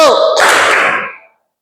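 A single sharp clap from a group of schoolchildren in a classroom, starting just after a voice and ringing briefly before fading out.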